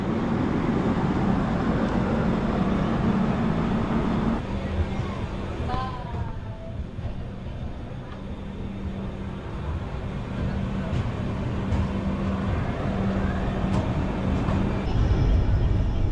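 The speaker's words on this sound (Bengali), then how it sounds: "অবশেষে আমাদের ট্রেন ছাড়লো মনমাদুরাই স্টেশন থেকে" An express train from Rameswaram to Bhubaneswar leaves Manamadurai station after a long wait at the signal. A heavy, steady rolling rumble fills the scene, with a faint squeal partway through and a loud surge near the end.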